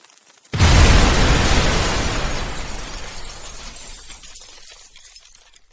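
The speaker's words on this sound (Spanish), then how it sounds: "Las rocas que se encontraban tapando la entrada, salieron volando por todas partes, de tal forma que parecía una explosión" A sudden loud blast as rocks blocking a cave entrance burst outward, an explosive crash after a brief quiet, then a long rumbling, crumbling decay that fades over several seconds.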